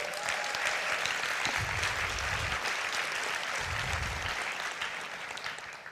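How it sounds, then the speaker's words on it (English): An audience applauds at a charity concert event, steady clapping from a crowd filling the room at moderate volume and tapering slightly toward the end, with a couple of low thumps and no clear talk. "in really good hands with Randy and Wendy, so let's hear it for them"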